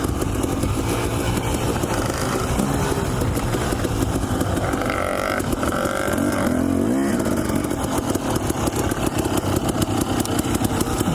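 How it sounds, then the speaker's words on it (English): A Husqvarna TE250 two-stroke dirt bike engine runs loud and close after a mountain ride, its buzzing idle rising briefly in a rev before settling back. "It's nothing quite like the two-stroke smell and sound."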